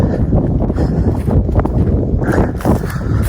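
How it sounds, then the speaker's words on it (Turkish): Heavy wind blasts across the microphone with a steady, loud low-pitched rumble that gusts and swells, and no one speaks. "Maalesef gene bizim bahar başladı. Rüzgar başladı."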